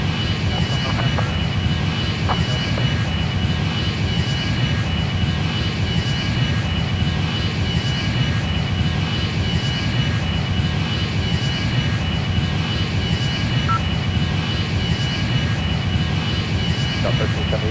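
Jet engines of an Icelandair Boeing 757-200 taking off from Rome, a loud, steady broadband roar filling the cabin throughout with no letup.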